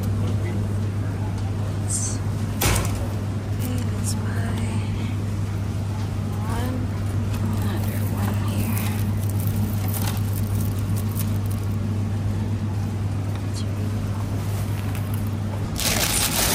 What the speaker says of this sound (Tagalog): magdadrive muna tayo ha